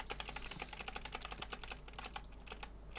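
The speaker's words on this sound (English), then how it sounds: "Yes, if you hear it, this is my keyboard." Quick, steady clacking of keys on a computer keyboard during a gaming session, up close and fairly quiet, with a low electrical hum under it and no talking.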